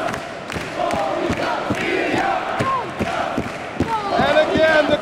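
A wXw professional wrestling crowd in 2018 cheers and chants in rhythm with sharp, regular claps, loud and reverberant in a hall, while a commentator talks over the noise.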